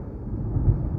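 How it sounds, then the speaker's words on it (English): Thunder from outside rumbles low and heavy, a brief muffled roll that swells slightly midway through the second, with no talk over it. "That was the thunder out there"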